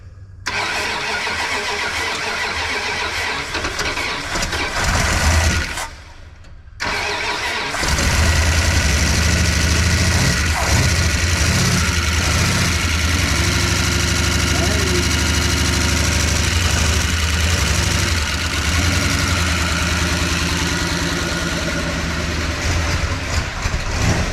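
A 1988 Dodge Power Ram, left sitting for 23 years, cranks, cuts out briefly, then starts and settles into a loud, steady idle with some knocking that runs to the end.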